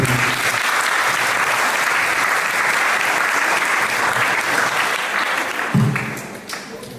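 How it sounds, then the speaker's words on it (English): Audience applause after a devotional bhajan at the Panihati Cida Dahi festival. Loud, sustained clapping from a large crowd runs for most of the stretch, then tapers off near the end. "Give a big hand of applause to"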